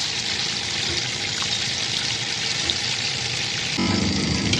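Ridge gourd pakoras fry in hot oil with a dense, loud, continuous sizzle that shifts slightly in texture near the end.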